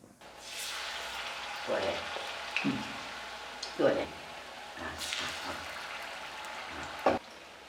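Soft, even sizzling of dates frying in hot coconut oil, with a person talking intermittently over it.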